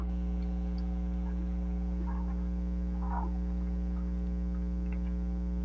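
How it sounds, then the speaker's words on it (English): A Tajima SAI embroidery machine, fitted with a Mighty Hoop 9x3 sleeve hoop, runs its design trace as a steady electric hum with layered tones, broken by a few faint soft clicks and movements, with no voices. "So I'm gonna hit yes, and tracing is gonna start."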